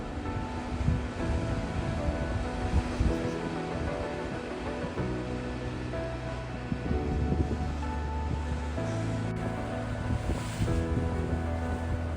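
Ocean surf surges and crashes against rocks along the Oregon coast at Rocky Creek State Park near Whale Cove. The roar is loud and continuous, with wind buffeting the microphone and no talk.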